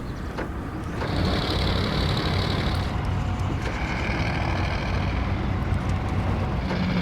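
A MAZ 538 heavy wheeled military truck, a modded vehicle in SnowRunner, drives with a steady low engine drone and rumble, joined by brief higher mechanical whines and hisses partway through.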